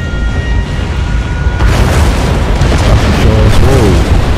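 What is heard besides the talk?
meteor shower impacts exploding in video game SimCity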